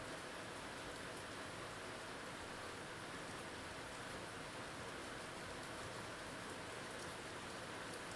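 Steady rain falls outdoors as a continuous, even hiss of drops on surfaces, faint and unbroken throughout with no voices.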